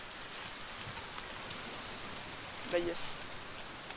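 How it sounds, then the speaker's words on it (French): Steady rain at night in the survival game The Forest, a constant soft hiss running the whole time, with a brief louder thump near the end and a short spoken remark. "Il pleut."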